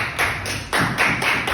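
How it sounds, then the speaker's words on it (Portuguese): A church congregation applauds in bursts during a worship service, the clapping close and dense, rising and falling across a short stretch with no voices over it. "vamos estar recebendo a Simone com aplausos para Jesus Cristo"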